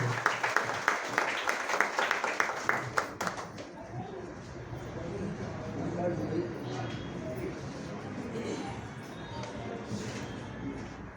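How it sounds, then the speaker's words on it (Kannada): An audience at a cooperative society's annual general meeting claps to welcome guest C Ramaswamy, a loud burst of scattered hand claps that fades after a few seconds into a murmuring room with voices. "ಸಿ ರಾಮಸ್ವಾಮಿ ಅವರಿಗೆ ನಮ್ಮ ನಿಮ್ಮೆಲ್ಲರ ಪರವಾಗಿ ಚಪ್ಪಾಳೆ ಮುಖಾಂತರ ಸ್ವಾಗತ ಮಾಡಬೇಕಂತ ಕೇಳ್ತದೆ"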